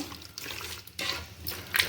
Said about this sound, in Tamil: நாம் 200 ml தண்ணி ஊற்றிக்கலாம்.